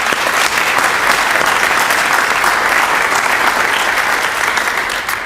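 Audience at a 30th anniversary presentation applauds staff in a dense, steady round of clapping that holds loud and even for several seconds before easing slightly.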